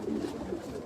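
Soft, low pigeon cooing murmurs steadily through the short stretch, a gentle rolling hum with no voices over it.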